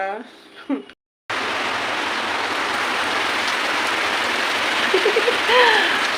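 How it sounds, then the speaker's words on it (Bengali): Heavy rain pours steadily outside a house, a loud dense hiss filling the clip after a short break, with a voice talking briefly at the start and a few faint bird calls near the end. "দেখো আমাদের বাড়িতে কত বৃষ্টি হচ্ছে দেখো"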